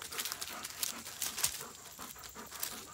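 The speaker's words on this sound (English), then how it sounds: "he's just a puppy" A puppy panting close by in rapid, quiet breathy bursts, a steady rhythm with a faint whimper or two mixed in.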